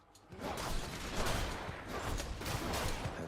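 A special attack in the Hades video game sets off a dense barrage of rapid explosions, loud and continuous, crackling and booming in quick succession without pause.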